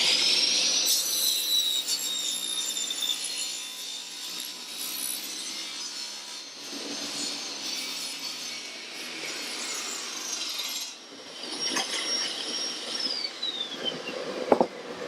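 Two square wooden pieces are sized and smoothed together on a woodworking machine, giving a sustained whirring, grinding rasp with high whining tones that dips briefly mid-way and swells again near the end, moderately loud with no talk.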